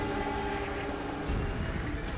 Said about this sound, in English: Maybe that's why they put the train there with like some whistling sound.